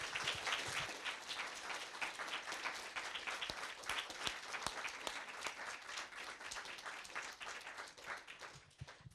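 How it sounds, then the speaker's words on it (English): Audience applauding the speakers after a panel discussion on the US presidential elections, dense sustained clapping from a room full of people, fairly distant and tapering slightly toward the end. "Can we have a round of applause, please,"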